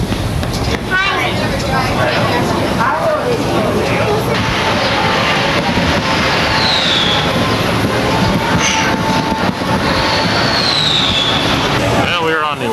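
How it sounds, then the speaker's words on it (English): Seattle monorail train running toward downtown, a steady loud rumble of wheels and motors with occasional squeals and rising whines, continuous throughout, with faint voices in the cabin. "we're on the world-famous Seattle monorail, and we're going to be heading downtown now"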